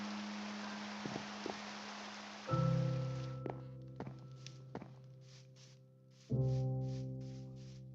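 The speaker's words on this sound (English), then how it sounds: "And here comes the rain." Rain falls in Minecraft as a soft steady hiss through the first stretch, joined by scattered thunks, footsteps and block sounds, with a few brief tones later.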